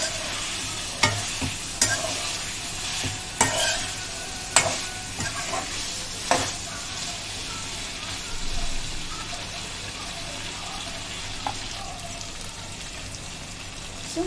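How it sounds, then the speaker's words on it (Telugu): Chicken 65 frying in a pan with its prepared gravy, a steady sizzle under sharp clattering scrapes of a spoon stirring at irregular intervals, close by with no talking. "సో మనం ప్రిపేర్ చేసుకున్న గ్రేవీ చికెన్కి అంతా మంచిగా పట్టేటట్టు ఒక 1 మినిట్ ఫ్రై చేసుకుందాం."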